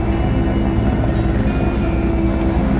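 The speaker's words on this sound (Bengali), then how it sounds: "এখন হেলিপ্যাডের সামনে বসে আছি, হেলিকপ্টার উঠছে" A helicopter lifting off from the helipad at Kedarnath roars loud and close, a dense steady rotor and engine drone filling the whole stretch without any voices.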